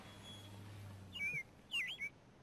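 A pet bird gives a few short, bright chirps in a quiet indoor room, two or three quick whistled calls close by after a low background hum fades.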